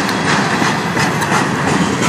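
Loud, continuous rumble and clatter of a CN westbound manifest freight train's cars, including aluminum block loads, rolling past close by on the Strathroy Subdivision, with steady rhythmic wheel clacking.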